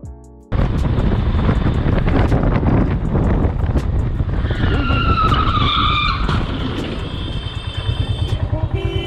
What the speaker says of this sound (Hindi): रोड के साइड में पूरी तरह स्किड हो जाती है